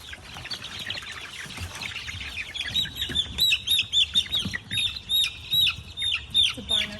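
Chicks, including Barnard and barred rock hens, being moved from a brooder to a coop during a thunderstorm, chirping in quick repeated peeps that grow louder and denser, with low rumbling underneath.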